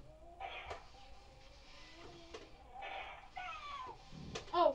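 A cat gives a short, clear meow near the end, heard close up over a quiet, faintly rustling background.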